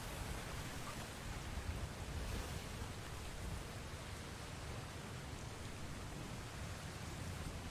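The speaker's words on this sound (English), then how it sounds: "It's raining, gotta watch for cyclones." Rain in the survival video game Atlas falls as a steady, even hiss of soft broadband noise, faint and unbroken throughout with no other sounds standing out.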